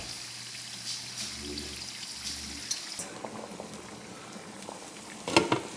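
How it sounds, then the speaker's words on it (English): Water pours and splashes out of a pot of boiled potatoes, a rushing trickle at first, then lighter dribbles and a clatter of metal near the end. "I'm going to get rid of some of the water."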